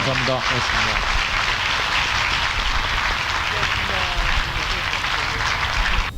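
Studio audience at a live public radio broadcast breaks into sustained, dense applause that fills the room, with a brief spoken thanks at the start.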